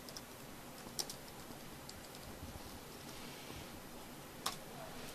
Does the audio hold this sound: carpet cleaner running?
no